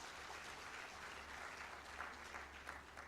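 Audience applause from women at a Grow loan beneficiaries open day, steady dense clapping throughout at a distance, faint and even.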